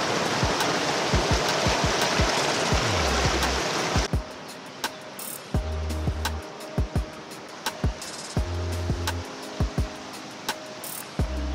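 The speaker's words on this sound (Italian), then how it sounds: "quest'anno l'acqua c'è ragazzi" A stream flows at the entrance to the Valle degli Scoiattoli, a loud, close, even rush of water for about four seconds that then cuts out, leaving scattered thumps and brief tones.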